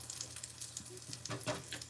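Food simmering low in a pan with plenty of water still in it gives off faint, soft sizzling and bubbling crackles in brief irregular bursts, close and quiet with no one talking.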